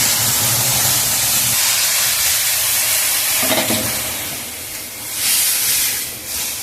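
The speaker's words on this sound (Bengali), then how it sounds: "মশলাটা ভাজা, আমি এবার ডালটা ঢেলে দিচ্ছি।" Hot spices sizzle loudly, then lentils poured in send up a hissing, steaming rush that gradually subsides into bubbling, with a brief stir.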